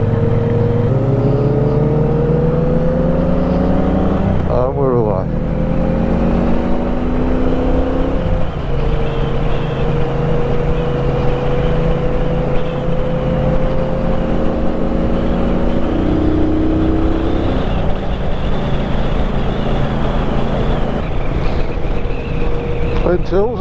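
A Triumph Bobber Black motorcycle rides along a road, its engine note climbing and dropping through gear changes under steady wind rush, loud and close throughout.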